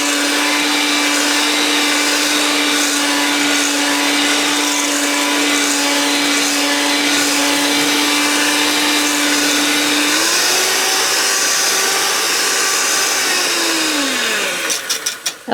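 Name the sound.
electric mixer beating spoon bread batter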